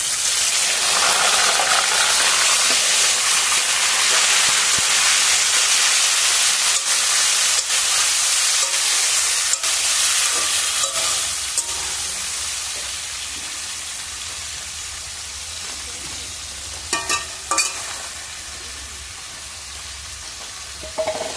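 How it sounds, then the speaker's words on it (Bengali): Lote (Bombay duck) fish frying in hot oil gives a loud, sustained sizzle with crackling spits and hissing steam, easing toward the end with a few sharp pops. "লোটে মাছ দিচ্ছি তেলের মধ্যে"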